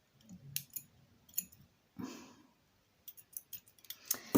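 Scissors snip in short separate bursts, several quick cuts spaced across a few seconds, close and fairly quiet, while a beaded candle lantern is made at a table.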